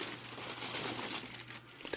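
Paper crinkling and rustling as it is pulled out of a new sneaker box, a close, continuous crumpling that grows busier toward the end, with no voices.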